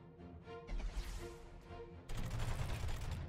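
Beam weapons on a space base in the Master of Orion strategy game fire rapid zapping bursts and shoot down incoming missiles. The dense, layered blasts run loud and continuous, then grow harsher after a short change midway.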